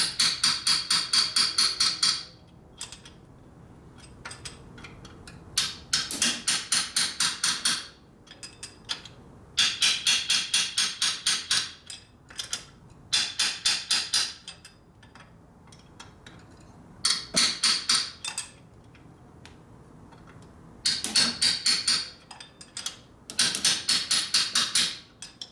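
Bursts of rapid metallic hammer blows on a wrench on a 1958 Harley-Davidson Panhead 74ci motorcycle engine top end, clanging loud and close in repeated runs with short pauses between them.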